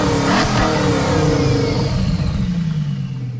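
A car engine in Gran Turismo Sport revs hard and loud near the start, then holds a steady, droning mid-pitched note that eases slightly toward the end, with no talk.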